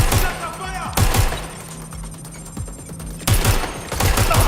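Gunfire in the video game Watch Dogs: Legion crackles in rapid bursts of shots, loud and close, with short pauses between volleys while a voice speaks over the fighting.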